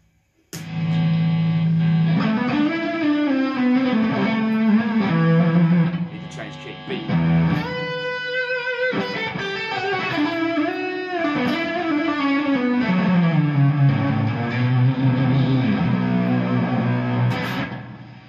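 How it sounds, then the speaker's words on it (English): Electric guitar played through a fuzz pedal with straight fuzz only: thick, buzzing distorted notes and sliding bends, loud and sustained with a noisy hiss, and a voice talking over parts of it. "So that's straight fuzz,"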